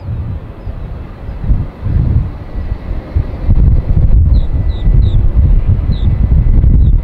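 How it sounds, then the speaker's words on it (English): Strong gusting wind buffets the microphone at an airport, a loud continuous low rumble that swells and surges in waves, with faint high chirps near the end. "Winds are sustained at almost 20."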